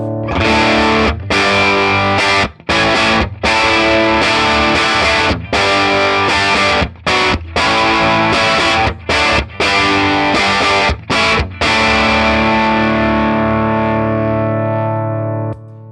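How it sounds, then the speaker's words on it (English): An electric guitar through a Bearfoot Emerald Green Overdrive pedal plays chopped, crunchy chords in a rhythmic pattern with short gaps, then lets the last chord ring out. Loud and close. "And here is the Emerald Green Overdrive."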